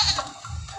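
A goat in a mountain-climbing video game lets out a short, nasal bleat, close and clear, lasting under a second.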